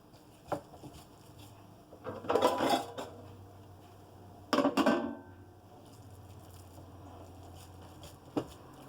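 A cooking pan being readied in a home kitchen gives two short clusters of metallic clanks and clatter, with a few isolated light knocks in an otherwise quiet room.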